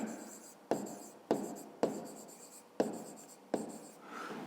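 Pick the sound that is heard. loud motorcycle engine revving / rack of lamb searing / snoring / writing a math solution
writing a math solution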